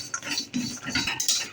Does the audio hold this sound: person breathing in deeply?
no